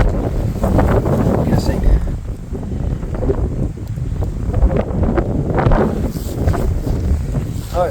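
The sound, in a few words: wind blowing at a plane crash site in Newfoundland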